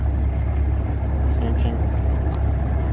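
The engine of a Peterbilt 362 cabover truck rumbles steadily up close, a deep low drone with a throaty idle, while someone talks over it.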